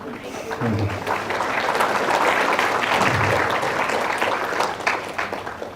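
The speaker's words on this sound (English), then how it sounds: "Why are you clapping?" An audience at a spiritual talk session in Melbourne keeps up a full, even round of applause, while a voice speaks intermittently over the clapping.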